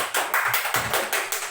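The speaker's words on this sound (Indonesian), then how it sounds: "Tepuk tangan." Audience applause in a hall at an Indonesian-language proficiency results event in Makassar, steady dense clapping with rhythmic swells, close and loud, no voices over it.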